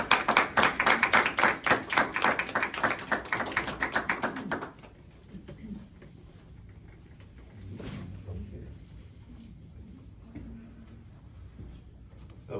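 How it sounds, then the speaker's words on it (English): Brief burst of steady clapping from a small group at a county commissioners meeting for about five seconds, then quiet room tone with faint murmurs. "Let's give him a round of applause."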